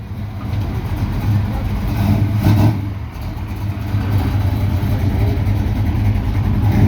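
An Oldsmobile 442 with a 4-barrel carburetor, 4-speed and dual exhaust idles and revs at a car show awards event, a loud steady engine rumble with one brief surge in the middle.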